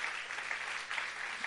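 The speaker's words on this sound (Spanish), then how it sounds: "Denle un aplauso al Señor" Applause fills a church service, a short burst of dense, even clapping from the congregation, heard fairly faint and distant without talk.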